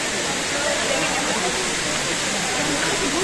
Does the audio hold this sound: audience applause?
no